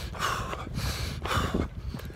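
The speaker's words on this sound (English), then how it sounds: "I'm going to start breathing like this" A person breathes deliberately while walking, in loud, close, rhythmic breaths with about three strong inhale-exhale cycles, each with a raspy, snort-like push of air. No speech.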